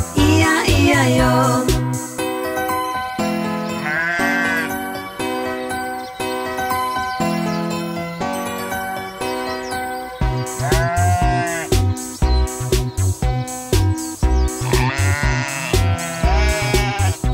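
A children's farm song with loud, bright instrumental backing and sheep bleats woven into the melody, the wavering baa calls recurring several times alongside the beat and the tune, with no lyrics over this stretch.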